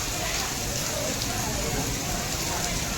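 Hail and heavy rain pour down steadily in a dense, even hiss that fills the whole stretch, close and continuous with no breaks.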